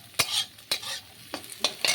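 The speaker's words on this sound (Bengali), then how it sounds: "আবার ডিমটাকেও এর সাথে ভালো করে ভেজে নেব।" Egg fried with onion and green chili in a pan, heard as a quiet sizzle broken by four or five sharp scraping stirs of a spatula against the pan at irregular intervals.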